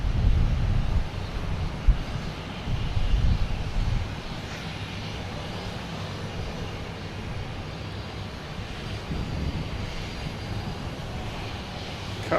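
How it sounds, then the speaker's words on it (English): A JetBlue Airbus A220 arrives at Boston Logan from Savannah: a steady, moderately distant jet engine drone, somewhat louder at the start, then even and sustained with no talk. "JetBlue coming in from Savannah in A220."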